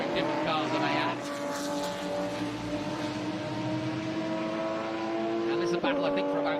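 Trans Am Series race cars roar past on the Mid-Ohio circuit, several engines droning and overlapping at high revs with a pitch shift as one passes close, while a commentator talks over the racing.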